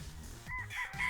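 Breeding roosters crow faintly in a short burst, a distant cock-a-doodle-doo rising over low background rumble, with no talking.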